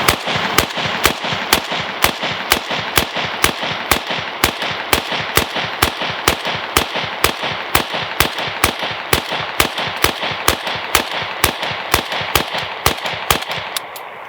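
PSA AK103 rifle firing a long string of evenly spaced shots in cold sand, each crack sharp and loud, about two per second, with no talking.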